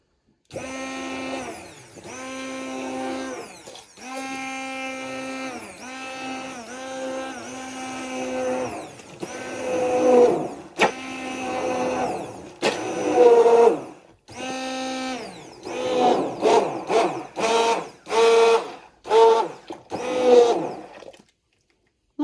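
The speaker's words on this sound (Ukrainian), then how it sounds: "Я перебиваю блендером, бо мені так зручніше." A hand blender purees a hot apple and pumpkin mixture for pulpy juice. It whirs in repeated loud bursts with pitch shifting as the blade churns, and the pulses grow shorter and choppier toward the end.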